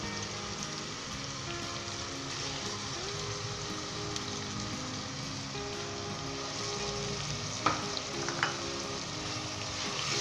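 Chopped onions with ginger and garlic fry in a pan, giving a steady close sizzle with soft crackles and a couple of sharper clinks from stirring. The sound is fairly quiet and there is no talking.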